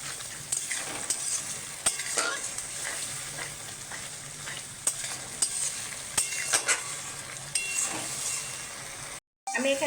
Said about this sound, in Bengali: দিয়ে মশলাটাকে আমি কষিয়ে নেব ভালো করে।